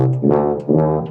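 A brass instrument plays a few sustained notes with a thin, pinched, somewhat unfocused tone, close and fairly loud.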